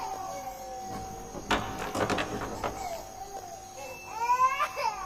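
An infant cries in fitful bursts, with sharp wails rising toward the end over a quiet background, no one speaking.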